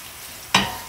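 Onions frying brown in hot oil for a goat meat curry give a low steady sizzle, broken by a sudden sharp hiss as they are stirred, which then eases back into a softer crackle.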